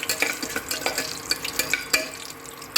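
Ground masala paste of coriander leaves, mint, green chilli, ginger, garlic and lemon frying in hot oil for a vegetable biryani, with close scraping stirs and soft sizzling crackle in an irregular rhythm.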